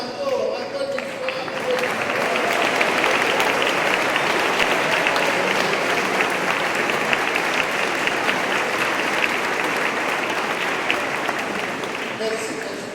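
Sustained applause fills a church at a communion mass as the congregation claps for the children, dense and steady throughout, rising after a brief start and holding at an even level.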